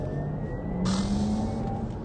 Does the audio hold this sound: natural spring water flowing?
no